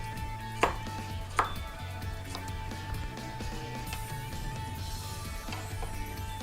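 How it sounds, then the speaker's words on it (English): Two sharp knife chops through a shallot on a board stand out near the start, followed by softer intermittent cuts over a steady low background hum. "Just chop up a shallot."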